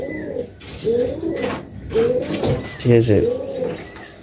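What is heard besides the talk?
male pigeon cooing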